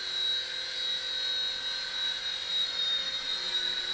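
A Silverlit Spy Cam II toy RC helicopter flies in full forward flight, giving off a steady high-pitched electric motor whine with a constant rotor buzz, close and alone.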